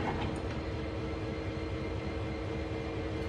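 Train moving in a video game, a steady rumbling rolling drone with a faint hiss on top, continuous and even throughout.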